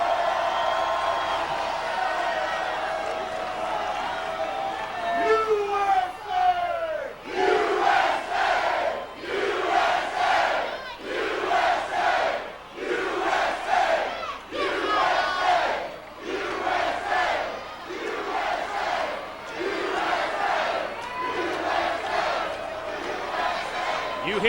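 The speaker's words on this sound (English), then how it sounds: "You hear the very familiar chant that always accompanies Hacksaw Jim Duggan to the ring." Wrestling arena crowd chanting in a steady rhythmic pattern as a wrestler heads to the ring at an NWA TNA event, loud and sustained with repeated bursts from the audience.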